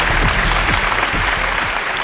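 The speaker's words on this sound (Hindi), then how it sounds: "जोरदार ताली होनी चाहिए आप सभी की तरफ से भाई।" At the 2025 Green Cinema Awards, a Bhojpuri film awards show, a large indoor audience claps loudly and steadily as a dense wall of applause throughout.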